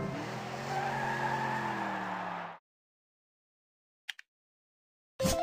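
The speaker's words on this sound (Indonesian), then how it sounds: "Mobil balap." A race car skids with a loud, squealing tire screech for a couple of seconds, then stops abruptly, followed by silence and brief clicks.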